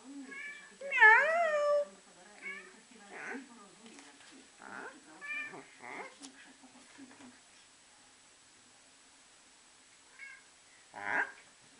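A cat meows several times, close and clear, with short wavering calls spaced across the stretch and quieter pauses between, while a person speaks softly nearby.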